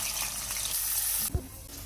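Cumin and onions fry in hot oil for a fish curry (chepala pulusu), giving a broad, steady hiss close by. A brief clatter is heard near the end.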